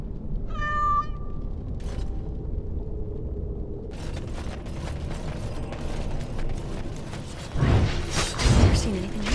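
A cat meows in the video game Dragon Age Awakening, with one short, clear meow right at the start, followed by mechanical clicking, ratcheting and creaking, then a louder clattering burst near the end.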